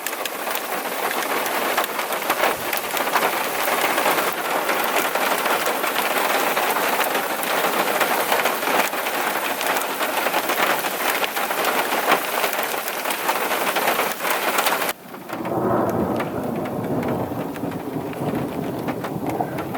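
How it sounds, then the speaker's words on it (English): Heavy rain pours down in a dense, steady hiss during a thunderstorm at Lake Mohave, Nevada, continuing loudly throughout and thinning slightly toward the end. "There are some pretty serious rain clouds moving in, and we've been getting a lot of thunder."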